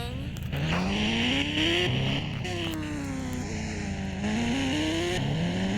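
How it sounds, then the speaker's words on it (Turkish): Video game car with a flaming engine revving hard, the engine pitch climbing and dropping in repeated sweeps as it accelerates and shifts, loud and steady with someone talking over it. "Al sana oyunun en çılgın motoru."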